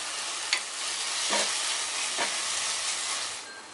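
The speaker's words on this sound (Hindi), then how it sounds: "तेल सेपरेट हो जाए तब तक हम इसे भून लेते हैं।" Quinoa vegetable pulao masala stir-frying in oil gives a continuous close sizzle, with a few scraping stirs of a spoon against the pan and no voices.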